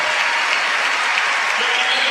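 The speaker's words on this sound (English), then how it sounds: "the fans applauding the effort of the Big Red" Fans at a women's college volleyball match between Loyola Marymount and Nebraska applaud in a loud, dense, steady wash of clapping from a large indoor crowd.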